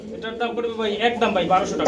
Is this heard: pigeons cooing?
yes